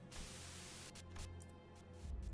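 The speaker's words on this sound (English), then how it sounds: "A sudden buzz of white noise breaks through the truck's silence." Radio static from the video game Limbus Company, a sudden buzz of white noise crackling through a truck's silence, a steady hiss with brief dropouts and flickering breaks, fairly quiet and alone.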